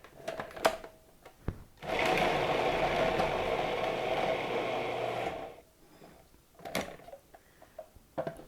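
Feta and cream cheese whirring in a food processor: a steady motorized blending hum runs for several seconds, framed by faint clicks and knocks before and after.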